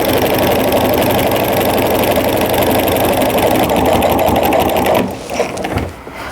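A home sewing machine fitted with a walking foot quilts a jelly roll tree skirt, a loud, steady mechanical hum that runs continuously before cutting out near the end.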